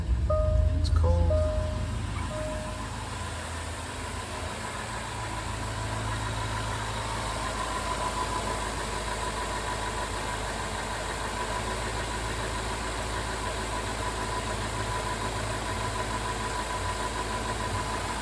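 A truck engine idles steadily after a cold start on a cold day, a continuous low rumble with a constant hiss of high noise over it, fairly loud and close with no talk.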